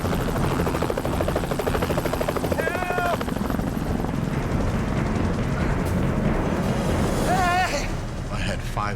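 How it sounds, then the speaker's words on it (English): Rescue helicopters flying over the Colorado Rockies give a loud, continuous rotor chop that stays close throughout, with brief whistling tones rising over it. "aimed at the helicopters as they were flying along their route"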